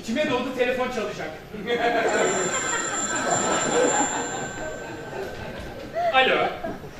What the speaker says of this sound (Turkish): İçime doğdu telefon çalacak.